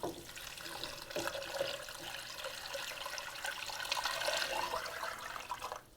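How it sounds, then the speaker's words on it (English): Beef broth pours steadily into a pot for several seconds, a soft continuous splashing and gurgling that fades out at the end. "And then I'm going to pour in the beef broth."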